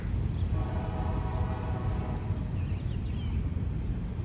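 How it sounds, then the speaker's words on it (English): A freight train led by SD40 and SD50 locomotives rumbles past outdoors, a loud steady roar of wheels and engines with a faint horn tone early on, no talk. "an SD40 and an SD50 trailing."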